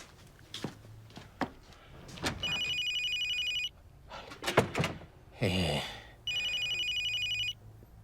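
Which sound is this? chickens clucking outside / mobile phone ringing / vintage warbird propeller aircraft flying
mobile phone ringing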